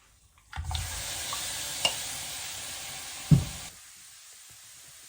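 Sliced pork belly dropped into a hot pan, bursting into a loud, steady sizzle for about three seconds with a couple of sharp pops and clatters, then cutting off to near silence.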